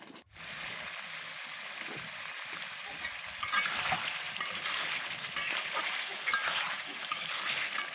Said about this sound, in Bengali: আমি আবারও জিরার গুঁড়ো ছিটিয়ে দিব দিয়ে নেড়ে চেড়ে নামিয়ে নিব